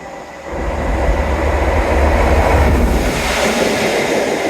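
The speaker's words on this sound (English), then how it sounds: "a fast train that doesn't stop here" A fast train rushes through a station without stopping, close by, a loud rising roar with rumbling wheels that swells and holds steady, with no voices.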